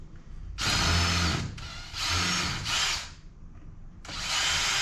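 A power drill unscrews screws from an LED retrofit light, with three loud whirring bursts of about a second each separated by short pauses, close up and with no speech.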